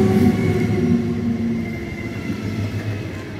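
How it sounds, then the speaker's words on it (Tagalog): A train rumbles along the rails in a steady, close rolling drone heard from on board, with no voices. "So this is my train."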